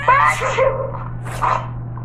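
A single close sneeze bursts out sharply, followed by a softer vocal sound, over a steady low electrical hum.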